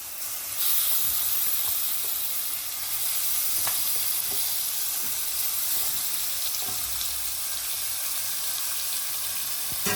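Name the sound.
soaked country chicken added to hot pan, sizzling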